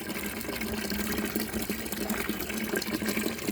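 Water pours onto potted plants in a rooftop garden, including a guava plant and red amaranth, as a steady continuous splashing gush that holds at an even level throughout, close by and with no voices.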